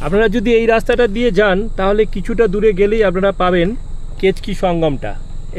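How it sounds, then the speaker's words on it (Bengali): Crickets drone steadily in the forest of Betla National Park, Jharkhand, a thin continuous chirring heard beneath a man's close, continuous talking along a forest road. "বনের মধ্যে ঝিঝি পোকার ডাক শোনা যাচ্ছে।"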